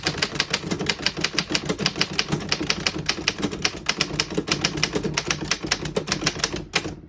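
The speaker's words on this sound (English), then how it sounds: "I'll type a sentence on the next line." Steady, rapid keystrokes on a 1908 Remington Standard 10 antique desktop typewriter, each a crisp metallic strike in an even rhythm, close and alone for about seven seconds before stopping.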